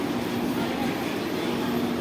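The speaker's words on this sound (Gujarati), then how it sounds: "આ આપણી ટ્રેન ઊભી રહેલી છે" The Tapti Ganga Express stands idling at Surat station, giving off a steady, unbroken mechanical drone with a faint tonal hum and no break in level throughout.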